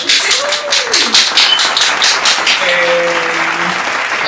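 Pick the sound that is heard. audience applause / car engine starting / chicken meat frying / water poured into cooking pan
audience applause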